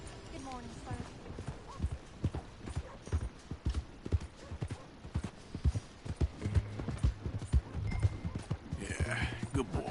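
Horse hooves clip-clopping in Red Dead Redemption 2, a steady close rhythmic walking beat of hoof strikes throughout, with someone talking over it.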